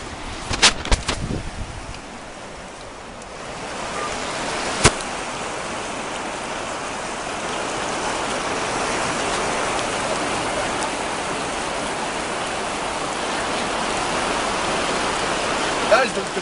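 River water flows in a steady, broadband rush close by, with a few sharp knocks and handling sounds in the first seconds before the even wash of the current takes over.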